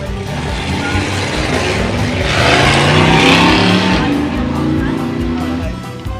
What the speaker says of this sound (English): Roger Poignot in the 63 Chevy 2 over there.